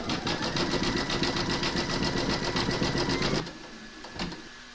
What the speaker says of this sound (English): pop your hoop into your machine and stitch round number 7, and that's going to zigzag the edges of the robes.